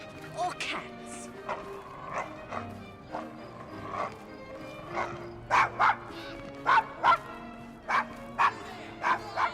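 Dog barking in Assassin's Creed Syndicate, set on a Victorian London street: a run of sharp, loud barks in steady bursts, growing closer and more insistent toward the end, with game voices talking around them.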